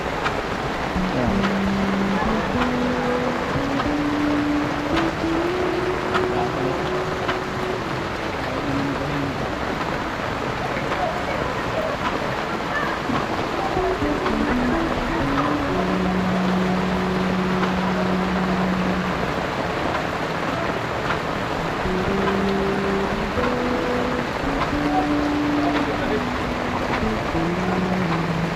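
Water gushes in a steady, unbroken rush from a newly installed outdoor faucet on private land as it is flushed, with faint voices low beneath the flow throughout.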